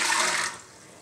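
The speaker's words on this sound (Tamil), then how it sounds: "தண்ணி தேவையான அளவு வச்சுருக்கேன், உள்ளே ஊற்றிடலாம்." Water poured from a vessel into a pressure cooker in a home kitchen, a short close splashing gush that cuts off abruptly halfway, leaving quiet room tone.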